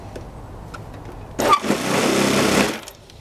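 An electric starter spinning a model aircraft engine whirs up with a sudden buzzing spin, running steadily for about a second before cutting off, loud and close.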